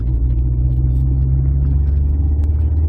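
A 1995 Alfa Romeo 164 with a 2.0 Twin Spark engine pulls away under acceleration, a loud, steady low engine drone and rumble heard from inside the car, holding an even level with no speech.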